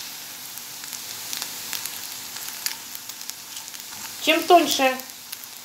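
Crab sticks fry in a hot pan with steady soft sizzling and crackle, swelling briefly louder near the end while a person talks over it.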